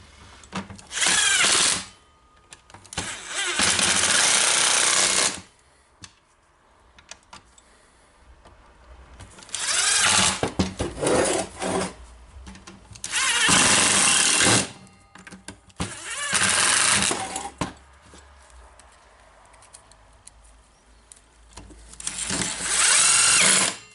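A power drill drives the screws on the handle of a Makita DDS501 18V tool, loud close whirring bursts of a few seconds each separated by quiet pauses, with no talk.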